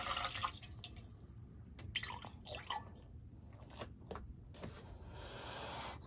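Water pumped from a portable camping sink runs and drips into a basin, in irregular splashes and trickles, close and moderately quiet, with handling noises between spurts.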